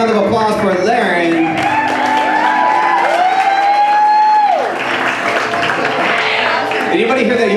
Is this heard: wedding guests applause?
yes